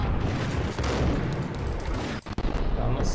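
Gunfire in the Max Payne video game: a loud, dense, continuous burst of shots and impacts that fills the clip, with one brief lull near the end.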